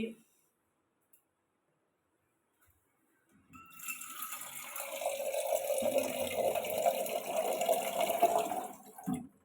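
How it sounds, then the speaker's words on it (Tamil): Water is poured onto raw meat being prepared as puppy food: after a few quiet seconds, a steady splashing pour runs for about five seconds, close and fairly loud. "சும்மா அந்த மாதிரி கொஞ்சமாக தண்ணி ஊற்றிக்கோங்க."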